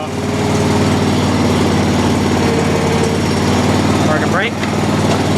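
A John Deere 345 lawn tractor engine runs at a steady idle, close and loud throughout with a constant drone, and a brief whistle-like squeal near the end.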